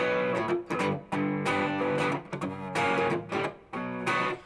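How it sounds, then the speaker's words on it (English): An electric guitar plays strummed chords with a light, roomy reverb tail, in short rhythmic bursts with no talking. "Let's get on a room reverb,"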